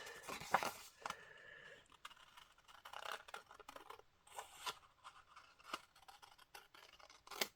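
Scissors snip through fabric or paper up to a marked dot in a series of short, quiet, irregular cuts, close by, with faint handling noises between them.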